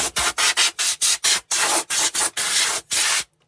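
A hawthorn crotch bowl is sanded on a woodturning lathe with fine-grit abrasive, giving a loud, close, rhythmic series of about a dozen rushing rubbing strokes separated by brief gaps before the sound stops.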